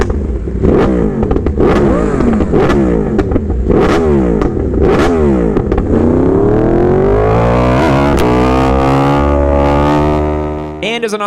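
A Yamaha R1 crossplane-crank sport bike revs hard through its exhaust, repeated sharp blips rising and falling, then a long climbing rev toward high RPM, loud and close with no talk over it.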